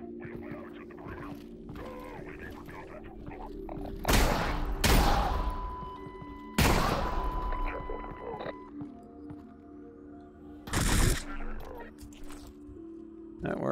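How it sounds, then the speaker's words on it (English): Shotgun blasts in the video game Half-Life 2: Lost Coast, three or four loud, sharp booms spaced several seconds apart, with a voice talking in the quieter stretches between them. "I'm gonna try and get him with a shotty gun"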